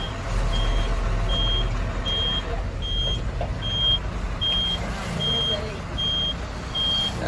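A vehicle maneuvers into position with about nine evenly spaced reversing beeps, clear and moderately loud over a low engine rumble and background road noise.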